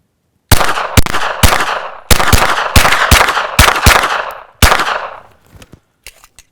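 A pistol fitted with a Gemtech Lunar 9 suppressor in its short configuration, firing supersonic rounds: about nine sharp, loud reports in a quick uneven string, with a few fainter clicks trailing after.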